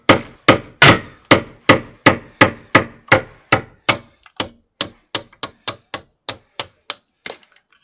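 Hammer blows drive a nut out on the keel of a Kelt 7.60 sailboat: about twenty sharp metallic strikes in a steady rhythm, loud and close, slowly weakening toward the end.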